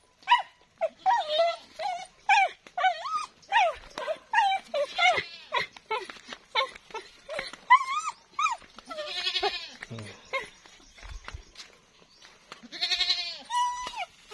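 A dog whimpers and yelps in high, wavering cries, repeated in rapid bursts, close by, with brief pauses between them.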